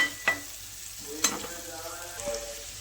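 Onions for besan bhurji frying in a pan, with a soft, low sizzle and a few sharp clinks and scrapes of a spoon stirring, heard close up.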